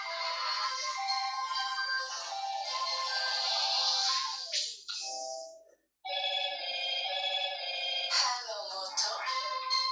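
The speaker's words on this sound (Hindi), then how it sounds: "चलो 2 सेकंड फ़ोन आ जाने दो" An incoming call sets off a melodic phone ringtone that plays bright and clear for several seconds, pauses briefly, then starts again.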